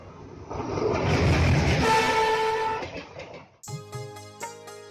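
A train rumbles past loudly and close for about three seconds, then a sustained horn blares in steady tones before the clip ends, with no talk over it.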